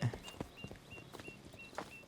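Horse hooves clip-clop at a walking pace in Red Dead Redemption 2, soft and fairly close, an uneven run of light thuds with faint background sounds.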